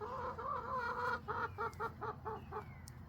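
A hen with a woody, clarinet-toned voice sings a sustained note, then a rhythmic series of six or seven short clucks, near and moderately quiet against faint background noise.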